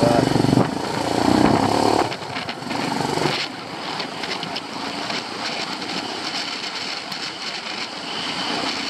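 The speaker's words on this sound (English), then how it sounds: "the low down torque of the Himalayan is really advantageous here" A Royal Enfield Himalayan motorcycle engine works a rocky trail on the North Yorkshire Moors, loud and close at first, then dropping to a lower, rougher rumble with uneven throttle pulses. Faint voices sit underneath.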